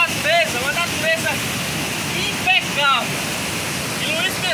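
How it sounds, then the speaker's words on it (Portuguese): Water rushes at the Cachoeira do Roncador waterfall with a constant hiss. Someone talks excitedly over it and birds chirp now and then. "É a Cachoeira do Roncador."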